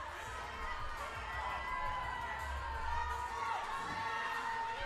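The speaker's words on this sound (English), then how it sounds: "You hear the crowd starting to pick up." A crowd cheers at the Burn Boot Camp Athlete Games 2023, a fitness competition, a steady murmur of shouts and cheers that swells slightly, heard from within the venue with voices mixed in.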